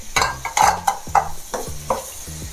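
Red chili and two colours of capsicum sautéing in a pan for chicken Manchurian, with a spatula scraping and tossing in quick, uneven strokes over a soft, steady sizzle, close and fairly loud.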